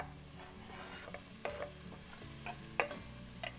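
A spoon stirs chopped squash and onions in a pot over gentle sizzling, with several distinct scraping strokes at irregular intervals, close up and with no voices.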